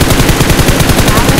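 Rapid automatic gunfire in the battle royale game BGMI, a loud continuous burst of closely spaced shots with no voices over it.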